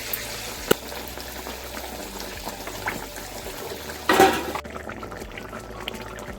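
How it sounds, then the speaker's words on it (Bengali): Water poured into a cooking pan of simmering gourd-based kofta curry, a brief loud splashing rush over steady bubbling and sizzling, followed by quieter simmering. "জল দিয়ে দিলাম,"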